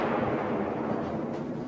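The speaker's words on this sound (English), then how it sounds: "Among the infernal thunder of Soviet artillery, we can hear the distinct thuds of tank cannons." Soviet artillery barrage with heavy tank cannon thuds, heard as a continuous dense rumble of distant explosions and booming fire with no clear gaps, loud and steady throughout.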